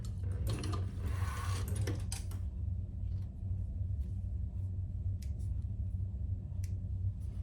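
A sewing machine stitching leather for a crossbody bag runs steadily with a low mechanical hum and rapid needle clatter, close up, with a brief burst of louder handling noise near the start and no speech.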